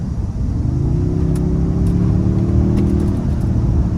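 A Toyota Tundra pickup's engine pulls hard under acceleration, a loud, close, steady low rumble whose pitch climbs smoothly and then holds as the truck gains speed, with no talking.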